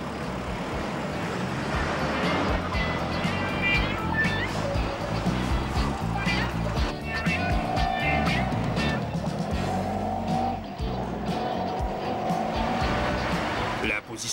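A 1992 Honda ST 1100 Pan-European with its V4 engine pulls hard on an open road, a continuous loud drone rising and falling as it accelerates, with wind and road noise throughout.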